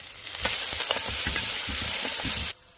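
Mustard seeds, fennel seeds, black pepper and onion hitting hot oil for tomato rice, a steady close sizzling hiss with crackles and small pops, then cutting off abruptly near the end.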